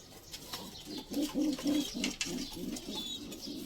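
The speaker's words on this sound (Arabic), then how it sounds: "بصوا الحمام تكوينه كويس، حمام متدبل" Homing pigeons cooing inside a loft, a close series of low, rhythmic, throaty coos repeating steadily with no talking.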